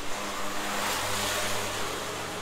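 A Royal Enfield motorcycle with a cut, rusted stock silencer, its engine running loud and close with a raspy, uneven rev and a slight rise in pitch partway through, no voices.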